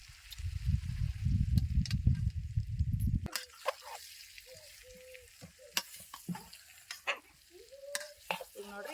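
Cut raw mango pieces mixed with spices in oil for homemade mango pickle give about three seconds of dense, wet, squelching stirring. Scattered clicks, taps and light drips follow, close and fairly quiet.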